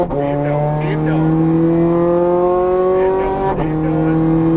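A Ferrari 430 Scuderia accelerates at full power on a race track, its engine wailing loud and close in a long rising note that breaks briefly at a gear change and then climbs again.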